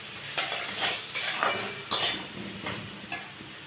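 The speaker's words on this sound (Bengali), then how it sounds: "দিয়ে আমি একটু নাড়াচাড়া করব। আলুটা একটু ভাজা ভাজা হবে।" Potato pieces being stirred and fried in a pan after salt is added, soft sizzling broken by several scraping spoon strokes against the pan, close and fairly quiet.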